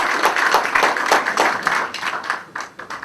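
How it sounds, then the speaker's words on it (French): Audience applause at an international business forum, a steady burst of many hands clapping that holds loud and dense for about three seconds. "Applaudissez encore pour lui."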